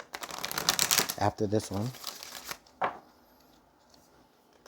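A deck of tarot cards is shuffled close up in quick papery riffles and bursts, with a voice speaking over the opening moments before it quiets.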